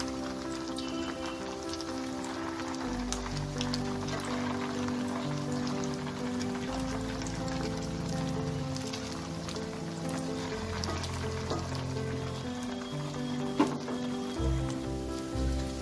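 Chhana koftas of fresh cheese fry in hot oil with a steady, rain-like sizzle and crackle throughout, close up, with a melodic music track playing underneath.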